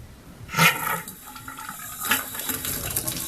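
Water rushes briefly from a three-handle shower faucet under repair, surging loudly then easing off, with a second gush a moment later, close and without speech.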